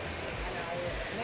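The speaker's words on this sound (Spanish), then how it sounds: "Está lloviendo, tío." Rain falls outdoors in Barcelona as an even, continuous hiss of drops, close and steady for the brief moment.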